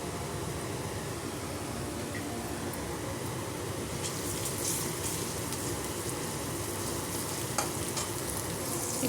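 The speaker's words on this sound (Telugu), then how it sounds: "ఈ బెండకాయ అంతా వేసి ఫ్రై చేసుకుందామండి" Finely sliced okra sizzles and crackles steadily in a hot pan with ginger-garlic paste, a loud, even frying hiss that runs throughout with no voices.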